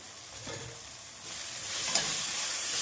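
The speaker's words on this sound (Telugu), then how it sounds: "వేసి ఇది మంచిగా కలుపుకుందాము." Red chili powder gets stirred into gongura curry in a pan, a soft continuous scraping and gentle frying hiss that grows slightly louder toward the end, with no voices.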